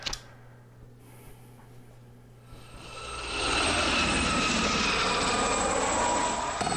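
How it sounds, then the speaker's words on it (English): Helicopter in a Tomb Raider 2 video game cutscene, a whine and rotor hum that starts faint and swells into a loud, steady roar after a few seconds, with no voices. "So Lara Croft, of course she has a helicopter."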